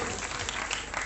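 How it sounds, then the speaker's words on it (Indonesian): Applause for a contestant at a grand final of a provincial Islamic boarding-school book-reading competition in Lampung, a brief, dense burst of clapping from an audience heard alone. "berikan tepuk tangan yang meriah buat Ahmad Zainuri"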